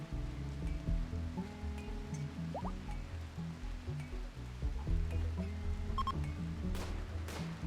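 Rain falls in the video game RimWorld, set in a temperate forest, as a steady soft patter and dripping under a low, droning background with no voices.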